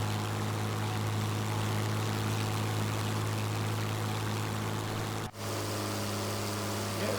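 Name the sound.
1930s propeller aircraft flying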